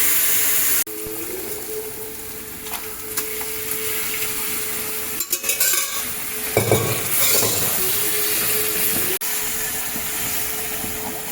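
Tapioca pieces fry and sizzle in a pan with spices while a spoon stirs and scrapes through them, a steady close hiss with clattering bursts and no talking.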